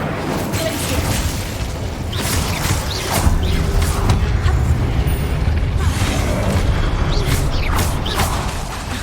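Incendio fire spell cast in Hogwarts Legacy, heard as a sustained roaring, crackling burst with booming low rumble and bright flares, loud and close throughout.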